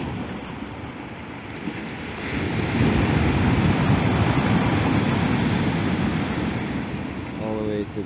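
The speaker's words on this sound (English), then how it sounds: "The waves are coming super close." Waves surge onto a pebble beach in Albania, a loud, broad wash that swells and rolls continuously with wind buffeting the microphone and a voice speaking briefly near the end.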